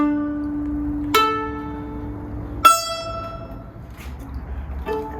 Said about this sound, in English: In this tuning, this is what the playing strings sound like.